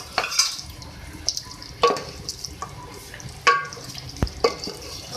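Chopped tomatoes stirred and frying in an arvi gosht masala, with sharp, intermittent scrapes and clinks of a spoon against the pan over a faint sizzle, heard up close.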